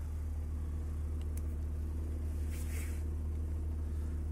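A BMW E34 with an M50 engine idles low at about 500 rpm, a steady deep rumble with an even, unchanging drone, close and continuous without speech.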